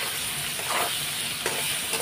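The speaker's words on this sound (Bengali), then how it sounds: "এখন আমি নাড়াচাড়া দিয়ে দেবো।" Spices with cumin powder are stirred in a pan over a close, steady sizzle. Two brief scraping sweeps of a utensil stand out over the short stretch.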